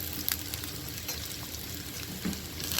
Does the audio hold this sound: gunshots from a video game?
no